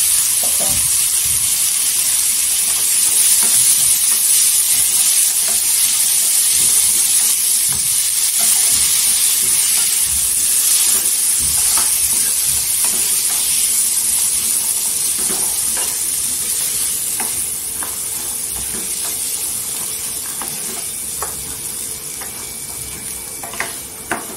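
Washed peas and potatoes frying in a pan for a spicy puri bhaji gravy, with a steady, close sizzle and the soft scrape and clatter of stirring throughout, no talking.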